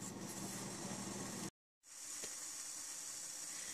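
Onions cooking for gyudon in a lid-covered pan: a steady, even sizzling hiss fills the clip, breaks off briefly to silence, then resumes slightly softer and continues alone.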